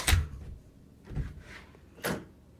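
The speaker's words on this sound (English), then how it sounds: "So let's test close the door." Three separate knocks and thuds spaced about a second apart, each a short dull impact with a latch-like click, no voices.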